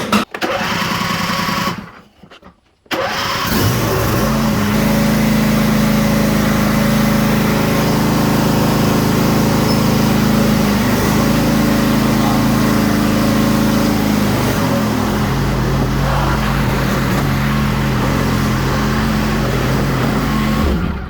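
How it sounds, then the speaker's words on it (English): An Ariens AYP riding lawn mower engine runs loud and close on a test drive after a hydrostatic transmission fix, giving a steady droning roar that shifts pitch slightly as it moves, after a brief dropout near the start. "The last thing we have left to do is just go ahead and take it out for a little test drive."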